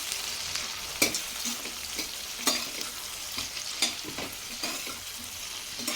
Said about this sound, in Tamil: இப்போ இதை நல்லா கோல்டன் ப்ரௌன் வர வரைய நல்லா வறுத்து விட்டுக்கலாம்.